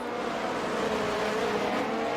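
A Formula 1 car races down a straight, its engine a steady high-pitched scream held for about two seconds with no talk over it.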